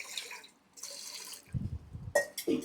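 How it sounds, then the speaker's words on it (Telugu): Water poured into a thick cooking pot while making rice pittu. Soft splashing and dripping comes in short, intermittent gushes with hollow metallic clinks, quiet and near, with no voices. "దీంట్లో సరిపడన్ని వాటర్ పోసుకుందాం."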